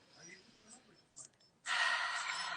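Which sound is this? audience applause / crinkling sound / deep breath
deep breath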